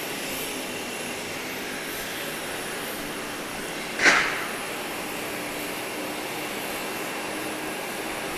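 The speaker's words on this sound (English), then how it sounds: "We have another twin otter here. This is the one coming in from Little Cayman." A de Havilland Twin Otter turboprop arriving from Little Cayman at Grand Cayman airport gives a steady, moderately distant engine drone, with a brief louder swell midway.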